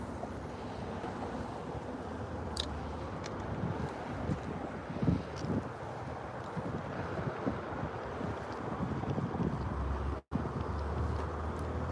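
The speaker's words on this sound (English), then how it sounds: "This wind is not wanting to be my friend" Wind buffets the microphone on a bridge while fishing outdoors, giving a steady low rumbling roar that runs through the whole stretch with one brief dropout near the end.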